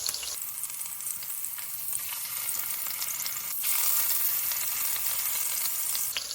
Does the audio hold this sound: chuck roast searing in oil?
yes